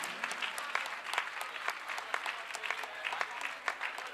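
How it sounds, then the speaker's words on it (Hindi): An audience at an ISKCON temple gathering in Ghaziabad claps steadily, a dense sustained round of applause from a crowd heard at moderate distance. "तो इन सब की याद के लिए आप सब एक बार जोरदार ताली बजाइए"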